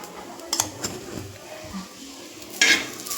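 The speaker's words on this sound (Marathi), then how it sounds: "चांगलं जिरं भाजून घ्यायचं।" Cumin seeds dry-roasting in a pan while making a homestyle chicken curry, a soft steady scrape and rustle with a few sharp clinks of a utensil against the metal, close and fairly quiet.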